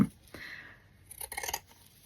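Scissors snip through paper cut from old book pages while crafting ephemera holders: a close sharp cut at the start, then a longer slicing pass and a quick cluster of crisp snips near the end.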